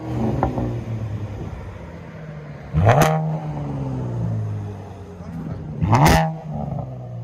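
Chevy Camaro engine, V6 or V8, idling with a low rumble, then blipped twice in sharp revs about three seconds apart, each rising to a loud roar and falling back to idle.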